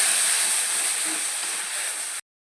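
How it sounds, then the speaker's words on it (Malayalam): Water added to a hot pan of ivy gourd masala hisses loudly as steam, a close, continuous broadband rush that cuts off abruptly after about two seconds. "കുറച്ച് വെള്ളം ചേർക്കട്ടെ"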